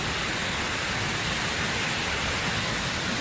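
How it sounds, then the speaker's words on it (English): Waterfalls beside a via ferrata in Mürren, Switzerland, make a constant, loud, dense rushing roar that fills the air with no breaks and no voices. "A little distraction here with the waterfalls"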